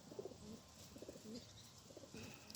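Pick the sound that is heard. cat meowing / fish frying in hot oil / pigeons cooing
pigeons cooing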